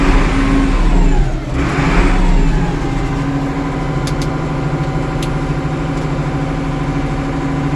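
An International 1086 tractor engine runs close by at a steady, loud, rumbling idle with a brief rise in revs early on. No one talks over it.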